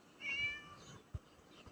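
A cat meows once in the video game Scary Teacher 3D: a short, clear, fairly loud meow, followed by a soft thump against a quiet background.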